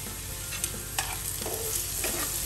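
Surma dried fish drops into a pan of frying vegetable stems and potatoes, giving a steady close sizzle with a few soft stirring and scraping touches.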